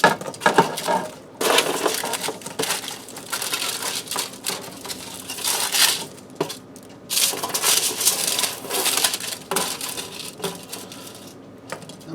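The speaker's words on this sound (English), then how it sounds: "We're going to get them down in the bottom of our pan." Crispy oven-baked tater tots tumble into the bottom of a casserole pan in irregular bursts of clattering, crinkly rattles, close up and alone for about twelve seconds.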